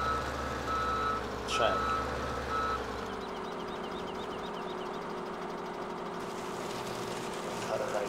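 Steady reversing beeps sound from a logging machine in Farming Simulator 17 at Sosnovka, pulsing over a low engine idle, with a brief spoken word early on.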